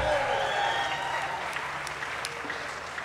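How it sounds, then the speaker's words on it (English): Crowd applauding a musician at an outdoor festival stage, a continuous, moderately loud wash of clapping with a few cheers mixed in, fading slightly toward the end. "Give him a big round of applause."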